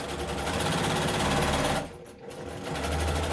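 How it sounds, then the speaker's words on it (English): A sewing machine stitching Christmas napkins runs loud and fast with a steady buzzing whir, pauses briefly near the end, then starts up again. "I know my sewing machine is loud, but I like it because it's fast."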